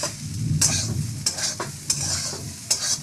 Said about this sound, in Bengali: এই যে ঘিটা দেওয়ার পর আমি এই যে আরেকটু ভেজে নিলাম